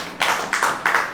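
Three slow, separated bursts of congregational hand clapping, each a loud, brief crack from a crowd gathered for worship, with short gaps between, and no talking over them.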